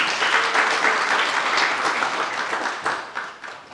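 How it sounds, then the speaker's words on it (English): A church congregation claps together at a Sunday service for youth about to join the church, a dense, steady wash of applause that fills the room and then thins out near the end. "Yeah, you can clap for that."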